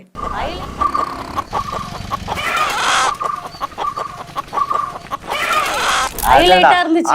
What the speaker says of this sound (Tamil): அந்த கோழி சவுண்ட் இருக்கே